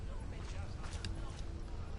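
Horse hooves clop in the video game Assassin's Creed Odyssey, a brief soft rhythmic patter under a steady background wash lasting only a couple of seconds.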